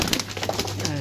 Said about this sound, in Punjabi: ਇਹ ਕਬੂਤਰ ਚੈੱਕ ਕਰੋ ਜਨਾਬ